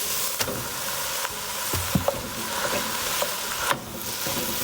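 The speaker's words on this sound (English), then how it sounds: "Break it up with your spoon. And you'll continue to cook this until the beef starts to brown." Ground beef frying in a pan with garlic for chili, a steady broadband sizzle with a few sharp scrapes and taps as a spoon breaks up the meat, close and continuous with no voices.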